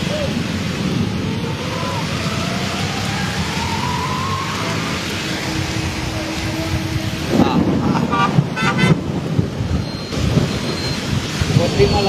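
Rolling thunder rumbles low and long through steady rain and wind gusts during the first monsoon downpour in Vadodara, with a voice murmuring faintly under the storm.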